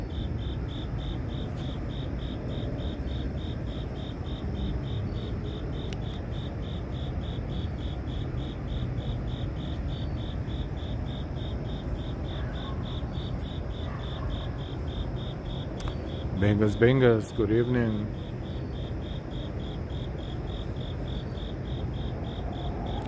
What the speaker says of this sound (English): Cicadas, can you hear them?